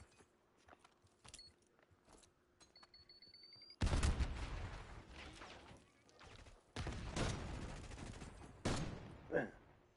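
Call of Duty gunfire, scattered faint clicks and shots at first, then several loud heavy bursts of rapid fire with reverberant tails, close, with soft game chatter in the gaps.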